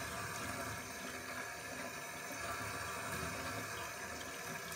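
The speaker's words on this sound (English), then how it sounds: "So you're just going to rinse this until the water becomes steam that comes out of the bottom." Water rinsing a Harley Davidson Screaming Eagle air filter, a steady close hiss of running water from a tap pouring through the filter, continuous and unbroken with no talking.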